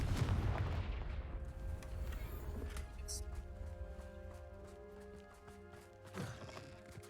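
A Confringo fire spell from a video game lands with a deep booming blast at the start, its rumble fading into a ringing tail over several seconds, with a smaller thump later.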